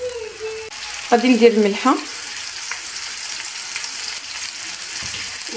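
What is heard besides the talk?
minced kofta meat frying in olive oil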